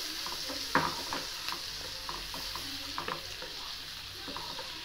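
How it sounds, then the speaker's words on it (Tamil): Garlic frying in a pan with chili powder for a vegetarian butter chicken dish: a faint, steady sizzle broken by a few soft clicks and scrapes from stirring, with no talk. "பூண்டு நல்லா வெந்துட்டுருக்கு, நல்லா வாசமாக இருக்குது"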